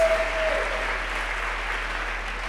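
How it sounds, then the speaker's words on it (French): Steady crowd applause fills a church gathering, a dense continuous clapping that holds at an even level throughout with no pauses. "Acclame, acclame-les."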